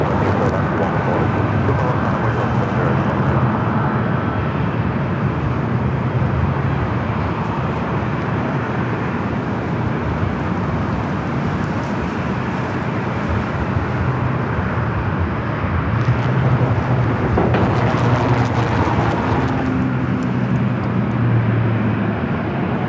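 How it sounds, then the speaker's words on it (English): A Boeing 757-200 jet airliner at LAX makes a steady broadband engine roar that holds loud and constant throughout, with low rumbling tones swelling slightly near the end. "It's down to 757-200 heading to La Hui, flight 428."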